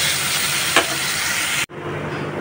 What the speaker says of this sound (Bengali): পটল দিয়ে আর 5 মিনিটের মতো কষিয়ে তারপর ঝোল দিয়ে মাছ দেবো।